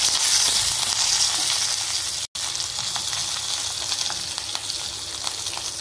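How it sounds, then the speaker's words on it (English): Mustard seeds, hing, peppercorns, cumin seeds and curry leaves sizzle loudly in a tablespoon of hot ghee, a steady close crackling hiss with brief popping, broken only by a momentary cut. "adding 1 tablespoon of ghee, adding mustard seeds, hing, peppercorn, jeera, curryleaves."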